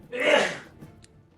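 A single sharp sneeze from a person at a tabletop game session, close and loud, fading quickly into quiet.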